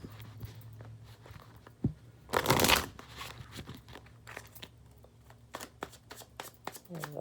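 Tarot cards from the Rebel deck shuffled by hand, a close, loud riffling burst of about half a second, then softer card handling and light taps in a quiet room.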